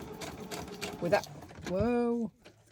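A sewing machine stitches through wallpaper for a handmade junk journal: one short, close motorized whirr of about half a second, with a steady whine. It follows a moment of quiet talk.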